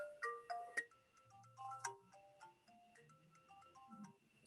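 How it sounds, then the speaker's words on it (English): A phone alarm goes off during an online conference session, playing a fairly quiet melodic run of bright electronic tones for several seconds with no voices. "that was one of my many alarms on my phone"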